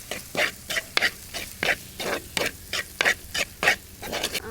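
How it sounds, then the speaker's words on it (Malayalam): Fish masala for Kerala-style fish pollichathu being stirred in a cooking pan: about a dozen evenly spaced scraping strokes over a soft sizzle, close and clear, with no voices. "നമുക്കിനി ഒന്ന് ഇളക്കി കൊടുക്കാം."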